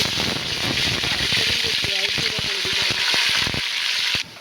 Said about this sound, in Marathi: इथे मी अद्रक लसूण पेस्ट घालून